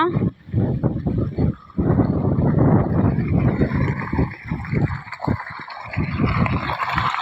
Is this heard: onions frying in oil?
no